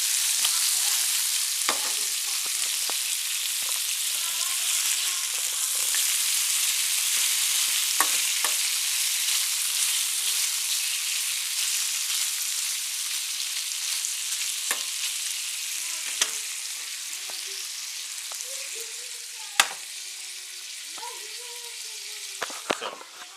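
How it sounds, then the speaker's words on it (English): Sausage sizzles and spits steadily in a frying pan, a continuous crackling hiss with occasional pops and light utensil clinks, close and fairly loud with no talk. "I'm frying up some sausage for Isaac."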